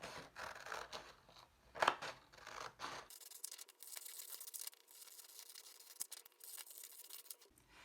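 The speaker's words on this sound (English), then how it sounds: "We're going to start by just cutting this outermost black border, cutting along this border." Scissors cut through paper along an outer black border in short snipping and rustling bursts, one sharper crunch near the start, followed by quieter continued scratching of blades and paper close by.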